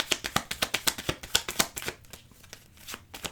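A deck of tarot cards is riffled and shuffled in quick, regular bursts of crisp flutters, close and clear, and then the sound trails off into softer handling.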